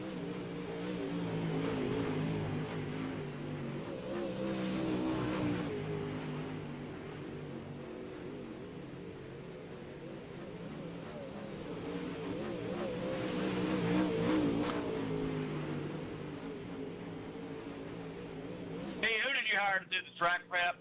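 Race cars in the iRacing video game, UMP modifieds on a dirt track, drone and rev continuously at moderate level, with a voice talking over them, ending in a brief sharper burst.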